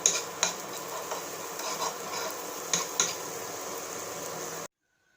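A spoon stirs pav bhaji masala mixture in a pan over low sizzling, a steady soft frying hiss with a few sharp clinks of metal against the pan, then sudden silence.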